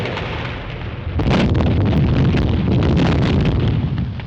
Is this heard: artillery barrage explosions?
yes